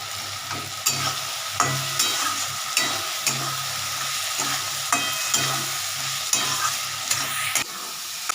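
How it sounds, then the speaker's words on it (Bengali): A spice paste with slit green chilies fries in a pan, a steady close sizzle punctuated by regular rhythmic stirring scrapes and taps roughly every half second. "মশলাটা একটু কষে আসুক এবারে এই কাঁচা লঙ্কাগুলো ছিল এগুলো একটু চিড়ে চিড়ে দিয়ে দিচ্ছি"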